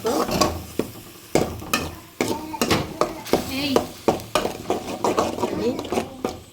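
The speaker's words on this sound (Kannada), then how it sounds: "ಬಿಸಿ ಆದಮೇಲೆ ಅದಕ್ಕೆ ಪೇಸ್ಟ್ ಮಾಡಿಟ್ಟಿರುವಂತಹ ಈರುಳ್ಳಿ ಶುಂಠಿ ಮತ್ತು ಬೆಳ್ಳುಳ್ಳಿ ಇದರ ಮಿಶ್ರಣವನ್ನು ಹಾಕ್ತಿದ್ದಾವೆ ಇವಾಗ ಚೆನ್ನಾಗಿ ಆಯಿಲಲ್ಲಿ ಫ್ರೈ ಆಗಬೇಕು" A paste of onion, ginger and garlic sizzles in hot oil while a spoon scrapes and clinks against the pan in a steady stirring rhythm, close and fairly loud.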